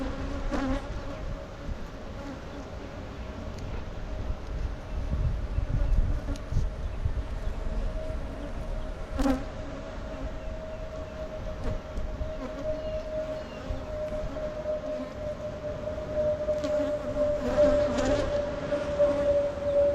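Honeybees buzz continuously around beehive frames being moved between hives, a dense steady drone close by with a few faint knocks and handling sounds underneath.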